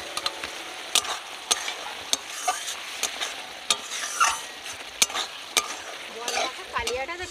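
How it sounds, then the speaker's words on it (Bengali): Fried potatoes being stir-fried into a spice paste for a Bengali boal fish curry, with repeated scraping stir strokes and a steady sizzle, close and fairly loud, no talking. "আলুগুলো দিয়ে কষাবো,"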